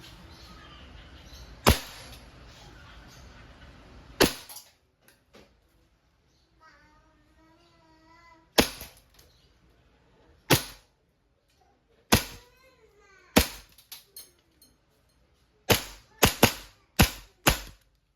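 A WE 2011 Hi-Capa 5.1 Type R gas blowback airsoft pistol fires about a dozen sharp, close cracks, spaced out at first and then in a quicker run of shots near the end, with brief bits of speech between them.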